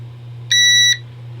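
A single short electronic startup beep from an Elegoo Saturn resin 3D printer with replaced fans, clear and steady for under half a second, over a low constant machine hum.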